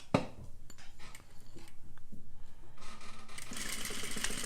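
A sewing machine back stitches bias binding at a neckline, starting after a sharp clunk with short bursts of whirring, then running steadily in a quick rhythmic chatter up close.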